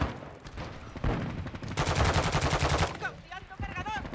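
Shotgun and other weapon fire in the shooter Modern Warfare 2 (2022), a string of rapid loud blasts building into a sustained burst, then fading into lighter game sounds.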